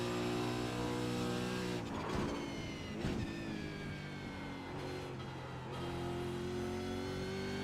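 An iRacing Supercar engine screams at full throttle in the racing sim, a loud, steady harmonic roar with quick gear-shift dips before the pitch climbs again.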